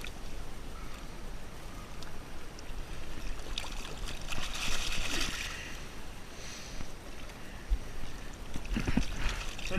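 Waves wash in and out on a beach at night, a steady broadband surge of water with swells of louder wash, a close splash near the end.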